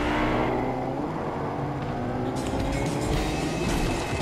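A car engine in Fortnite revs and accelerates close by, a loud, rising motor drone over steady game ambience.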